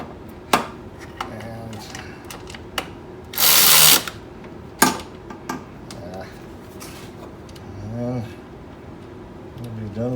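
A power tool cinches down intake manifold bolts on a 2010–2015 Prius, giving short loud bursts of whirring, with a longer burst in the middle, between metallic clinks and close talk.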